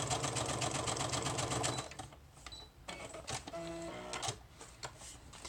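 Sewing machine stitching layered scrap paper for a handmade journal, a fast rattling run for about two seconds, then shorter bursts and mechanical clicks with pauses between.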